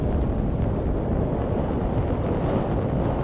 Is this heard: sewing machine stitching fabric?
no